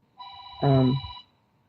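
A telephone rings nearby in one sustained electronic trill, with a voice speaking over the middle of it.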